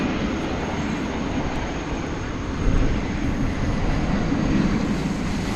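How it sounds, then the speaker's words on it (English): An American Airlines Airbus arriving from Los Angeles roars in at night at DFW Airport, a loud, steady, broadband jet rumble that swells slightly partway through, with no talking. "Here comes American Flight 2024. It's coming in from Los Angeles."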